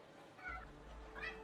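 A pet cat meowing in a room, two short rising meows close by, the second a little louder, over a low steady hum.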